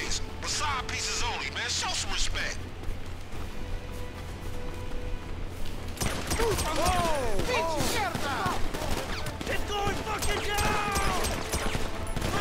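Gunfire in GTA V Online during a Lowriders session, rapid bursts of shots mixed with game sounds while players talk throughout.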